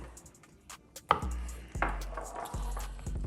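A knife cuts through raw shrimp on a board, giving a few distinct thuds and chops spaced about a second apart, close and moderately loud, with faint handling noise between strikes.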